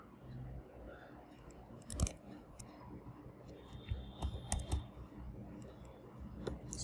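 Clicky computer keyboard keys tapped in short, uneven bursts while JWT code is typed, with a few sharper, louder strokes standing out close by against a quiet room.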